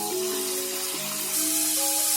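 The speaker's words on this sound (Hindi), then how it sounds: "इसको 3 से 4 मिनट तक के लिए फ्राई करेंगे।" Mutton pieces frying in a pan, a dense, steady sizzle heard close and alone, swelling slightly louder toward the end.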